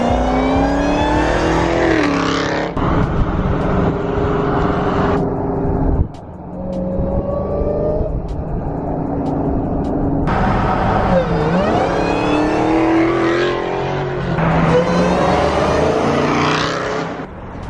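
A 2018 Dodge SRT Hellcat engine revs loudly and up close, a deep, sustained roar that repeatedly climbs and falls in pitch with brief lulls between pulls, and no talking.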